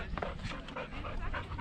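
A dog pants rapidly and rhythmically close to the listener, a quiet burst of quick breathy huffs with no talking over it.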